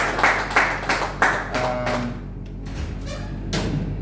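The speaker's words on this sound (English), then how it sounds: "Clap for yourselves, Jama." A few sharp claps ring out in a short burst at a General Assembly meeting, followed by lighter scattered clapping and some thumps in a reverberant room.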